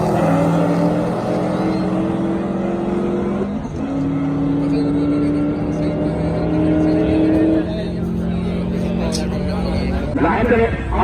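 Shelby GT500 Super Snake and Dodge Hellcat in a quarter-mile roll race, engines droning in steady high tones that shift pitch through gear changes, loud and continuous, with a whooshing pass near the end.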